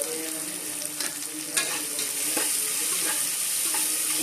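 Onions frying in a pan with salt, giving off a bright, continuous close-up sizzle with a few soft stirring scrapes.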